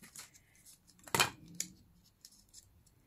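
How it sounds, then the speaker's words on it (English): A single sharp snip of scissors through paper, followed by a softer second cut, in an otherwise quiet room, while making a layered craft tag. "I'm gonna use my scissors."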